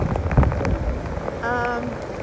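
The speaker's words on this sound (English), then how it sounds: "It's pouring rain, lightning, thunder." Heavy rain pattering and splashing during a thunderstorm with lightning, over a rumbling background, with a short tonal whine partway through.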